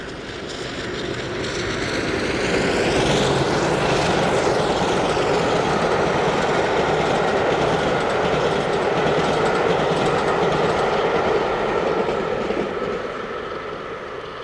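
A classic Crompton diesel locomotive hauls a train past toward Exeter and Bristol, a steady loud engine roar with rolling wheel rumble building in and sustained throughout, close by, with no voices.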